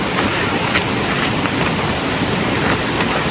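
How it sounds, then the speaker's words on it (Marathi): Heavy rain pours down on a forest night campsite in a dense, unbroken roar, loud and steady throughout with no voices. "तिकडे पाऊस बघू शकता जोरदार पाऊस आलाय"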